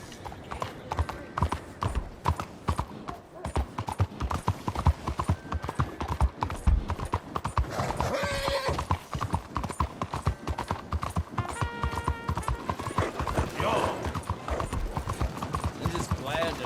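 Horse hooves clip-clopping in the video game Red Dead Redemption 2: a steady, rhythmic trot of close, crisp hoofbeats running throughout, with a brief whinny and occasional voices over it.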